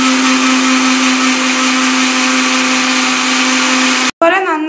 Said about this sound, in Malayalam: നന്നായി മിക്സിയിൽ അരച്ചെടുക്കുക